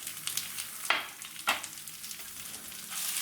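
Masala paste fries in a pan as it is stirred, giving a soft sizzle with two sharp scraping stirs close by over a steady low crackle.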